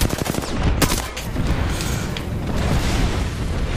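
Rapid bursts of gunfire in Apex Legends, a loud close fusillade of overlapping shots and booms filling the whole moment.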